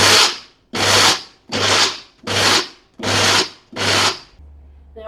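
A blender pulses sunflower seeds for a nut-free vegan parmesan in six short, loud bursts of whirring grind, each separated by a brief pause, with no one talking.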